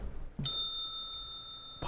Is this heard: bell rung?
yes